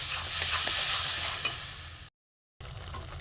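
Spice masala with cumin, coriander powder and garam masala sautéed in a pan for a vegetarian pointed gourd and peanut dish, a loud close frying hiss with spoon scrapes that cuts off briefly before the sizzle resumes.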